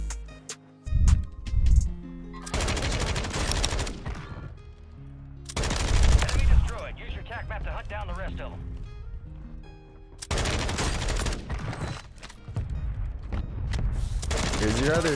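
Ram 7 rifle gunfire in Warzone 3 on Fortune's Keep, loud rapid automatic bursts in several separate volleys with short gaps and mechanical clicks between them.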